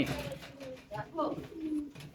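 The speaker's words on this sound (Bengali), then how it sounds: "এই হচ্ছে আমার লক্ষ্মী কবুতর" Pigeons in a cage give soft, low cooing calls, a few rolling coos close by over quiet background.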